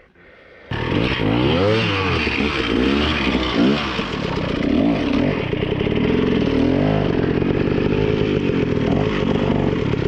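Off-road motorcycle engine with a stuck throttle revs hard and high, loud and close, holding a raw buzzing roar after a sudden start, with rapid wavering in pitch throughout.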